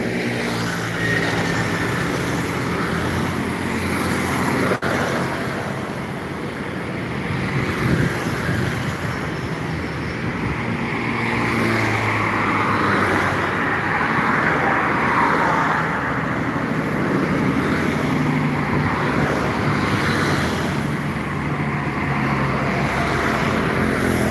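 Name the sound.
trucks passing on a road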